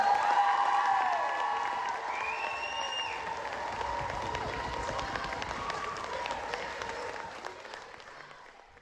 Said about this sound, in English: Can we give a huge round of applause to Charlie?